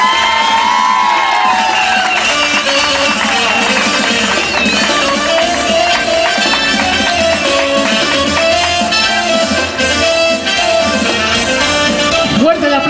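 Crowd cheering and whooping for a muxe vela ambassador, Paloma Escandada, at a festive outdoor gathering, a dense steady roar with shouts rising throughout, music or voices mixed in.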